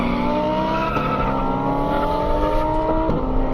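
An LS-swapped Mazda RX-7 FD drag races down an airport airstrip, its V8 roaring loud and steady as the pitch climbs, drops at a gear change, then climbs again.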